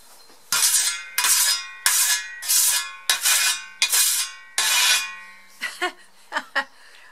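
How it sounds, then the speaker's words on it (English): A scythe blade is whetted with a series of quick, bright scraping strokes, about seven in a steady rhythm, close and loud, ending in a few short lighter taps and rings. "Or sharpening my scythe."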